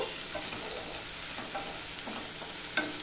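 Tomato, onion and ginger fry in a pan for chana masala, giving a faint, steady sizzle with a few soft stirring taps.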